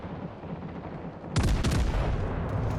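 Heavy naval gunfire from warships in a World of Warships Legends battle, a sudden loud burst of booming shots and rapid blasts erupting after a quieter stretch of background battle rumble.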